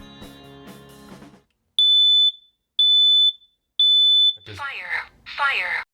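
A combined smoke and carbon monoxide detector runs its alarm test, giving three loud, piercing, evenly spaced beeps, each about half a second long. A voice speaks before and after the beeps.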